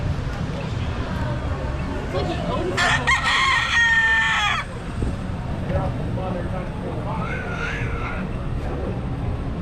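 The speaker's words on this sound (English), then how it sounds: "I'm going to crow again." A rooster crows once in a drawn-out, bright call near the middle, heard outdoors over steady background noise and water-vehicle rumble, with people talking around it.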